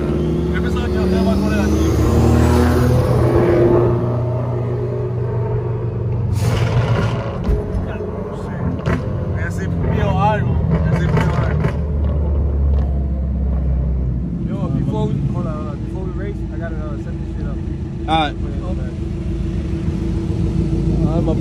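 Subaru WRX STI and Audi 1.8 turbo cars racing on a road: loud rumbling engines rise and fall as the cars pass, with people talking and shouting throughout.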